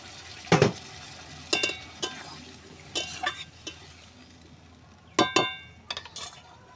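A spoon stirs chicken kosha in a metal pan, giving about a dozen sharp clinks and scrapes in irregular bursts over a faint low sizzle, with no talk.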